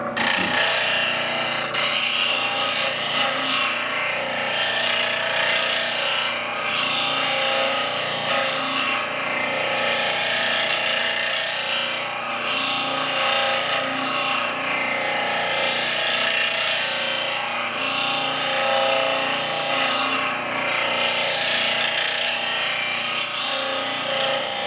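Steady abrasive grinding as a grinding wheel sharpens a travisher blade, a continuous close, hissing rasp with a gently pulsing rhythm that lasts throughout.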